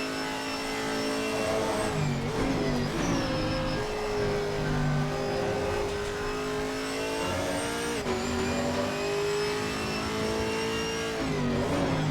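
A Chevrolet Camaro GT4 engine in the racing game Assetto Corsa Competizione at Donington Park revs continuously, pitch sweeping up and down through gear changes, loud and close with no talking.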